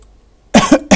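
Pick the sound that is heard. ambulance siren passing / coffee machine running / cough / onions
cough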